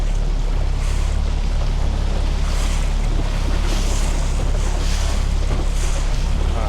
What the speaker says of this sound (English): Oh, big waves.